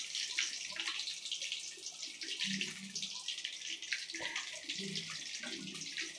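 Popcorn chicken frying in oil over medium heat, giving a continuous, fairly faint hiss and sizzle with scattered soft bubbling pops and no talking.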